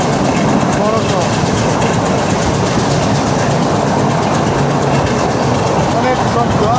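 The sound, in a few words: train noise in carriage next to the engine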